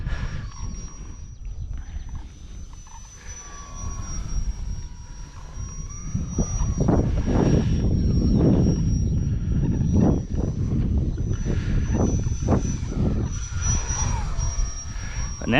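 Modified FMS 1700mm Super Cub RC model plane flying circuits, its electric motor droning steadily with a high whine and swelling louder as it passes nearer, heard alone outdoors.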